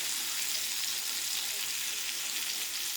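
Fish frying in hot oil in a pan gives a steady, dense sizzle that holds evenly throughout, close and moderately loud with no voices.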